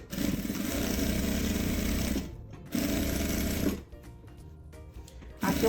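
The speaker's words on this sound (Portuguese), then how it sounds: "eu vou começar fazendo uma costura de segurança em toda a volta" A sewing machine runs a safety seam around a bag, loud and close in long continuous stretches broken by short stops, with quieter fabric handling between bursts.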